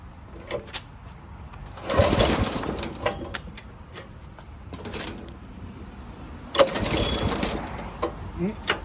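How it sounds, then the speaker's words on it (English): Two rope pulls on the engine of a 1995 Craftsman LT4000 lawn tractor, each a loud burst of whirring lasting a second or more, separated by quieter handling noises, with no sustained running afterward. "I guess we'll go ahead and do it with the rope start."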